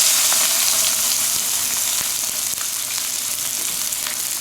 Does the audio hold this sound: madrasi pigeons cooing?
no